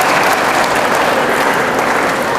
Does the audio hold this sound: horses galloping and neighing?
no